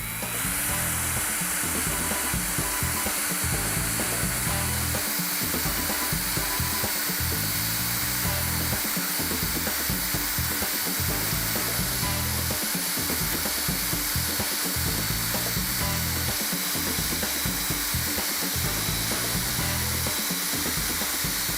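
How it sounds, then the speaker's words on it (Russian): A power drill with a Forstner bit grinds steadily and loudly through plastic drip-irrigation pipe for the whole stretch, a continuous high whine with a rough, buzzing low end and no talking. "что так долго сверлил вот эту несчастную трубу"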